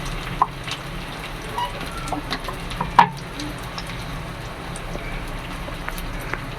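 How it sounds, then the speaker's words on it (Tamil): Onions sauté quietly in a pan for sambar, giving a soft, steady sizzle with scattered crackles and one sharp clink of metal, heard close with no talk. "இப்போ வெங்காயம் வந்து ரொம்ப கருக விட்டுறாமல் ஓரளவுக்கு வதக்கிக்கிடுவோம்"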